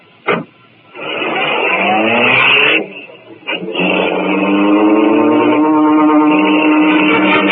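A car engine sound effect in a 1948 Green Hornet radio drama: a short burst, then a sustained revving drone that cuts out briefly and resumes, loud and close with a narrow, old-broadcast tone.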